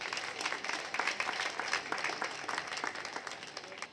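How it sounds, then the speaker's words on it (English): Audience applause welcoming guests at a Jamaican business event, a continuous wash of many hands clapping at moderate volume, even and sustained without talk. "Please give them a round of applause."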